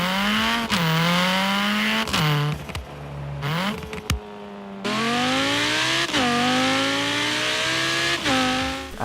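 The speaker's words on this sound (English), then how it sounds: "the first thing that attracted me to the game was actually the way the cars sounded" Racing car engines in the video game Forza Horizon 3 rev up and down repeatedly, rising through gears with sharp shifts and brief drops, loud and continuous with no talking.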